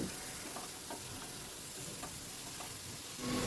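Prawns are stirred nonstop while frying in a spice paste, with a soft low sizzle broken by scattered scraping strokes of a spoon against the pan. It is quiet and close, with no speech.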